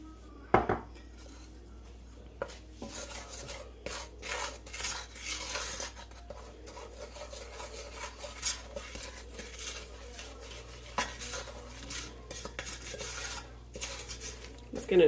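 Spices such as dry mustard and paprika being stirred into melted butter in a pot on the stovetop, soft intermittent scraping and clinks of a utensil against metal, fairly quiet and close.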